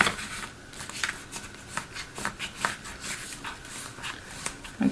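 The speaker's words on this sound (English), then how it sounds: "So I'm kind of burnishing that so it's nice and flat." A bone folder burnishing paper flat while making a photo box, heard as soft, close rubbing and scraping strokes in a loose repeated rhythm over faint background hiss, with no talking.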